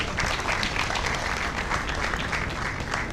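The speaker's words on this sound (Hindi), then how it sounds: "कुंवर हरवंश सिंह साहब तशरीफ ला चुके हैं, तो जोरदार तालियों के साथ एक बार का स्वागत किया जाए" Audience at a mushaira (Urdu poetry gathering) applauding to welcome the chief guest, a steady, dense round of clapping from a sizable crowd, heard alone with no speech over it.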